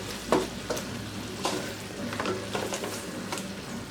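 Native chicken spicy adobo stirred in a pan, with a low sizzle under it and a handful of soft scraping strokes at an unhurried pace, close and moderately quiet.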